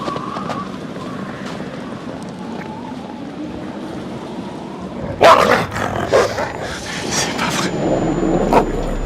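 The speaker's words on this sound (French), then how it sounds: "pour qu'il aboie comme ça, c'est qu'il doit avoir quelque chose" Dog in the Until Dawn video game growls and then bursts into several loud barks over a low ambient rumble of the game's setting.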